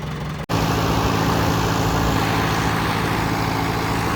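A 575 tractor on tubeless aircraft-style tyres idles close by with a loud, steady diesel rumble and hum after a brief cut at the start, running unbroken with no voices.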